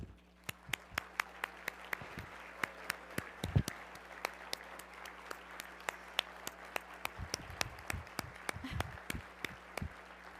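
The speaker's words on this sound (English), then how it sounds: "Will staff please stand up so we can applaud you together?" Audience applause for Community Foundation staff at a Madison Gives event: scattered, fairly faint clapping from a crowd, sharp individual claps spread across the whole stretch, building slightly toward the end.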